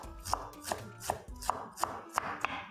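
A knife slicing through unpeeled ginger on a board, with about seven crisp, evenly spaced cuts in quick rhythm, close and fairly quiet with no talking.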